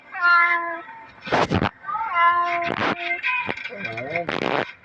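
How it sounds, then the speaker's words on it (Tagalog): A cat meows several times, clear and close, each drawn-out call separated by short bursts of noisy sound. "This is a cat."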